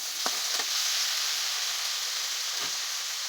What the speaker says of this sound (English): Sauté for 2 minutes.